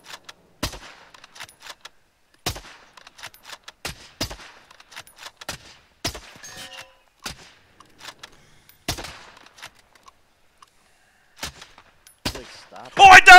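Sharp gunshots from the video game Warzone crack out in scattered single and double reports over about thirteen seconds, with quiet gaps between them and a louder burst of activity at the very end.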